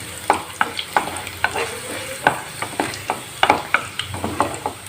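Garlic cloves fry in hot oil for fried rice, a steady close sizzle broken by repeated sharp scrapes and clicks of a spatula stirring the pan, with no talking.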